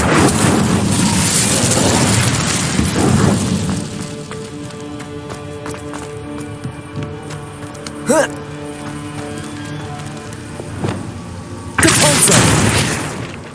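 The Incendio fire spell in Hogwarts Legacy bursts out in loud whooshing, crackling blasts, followed by quieter tonal game sounds and sharp impacts, then another fiery burst at the end.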